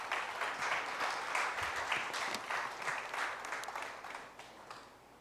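Church congregation applauding during a sermon, a sustained, fairly distant wash of many hands clapping that gradually tapers off toward the end.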